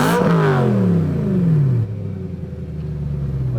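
A BMW M3 engine revs hard, rising to a loud roar, then drops back to a rumbling idle with some clatter, close up and without talk.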